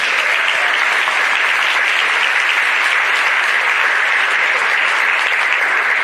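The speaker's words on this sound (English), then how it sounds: "Round of applause for our student athletes for this." A crowd at a high school signing day applauds its student athletes with loud, sustained clapping that stays steady and unbroken for the whole stretch.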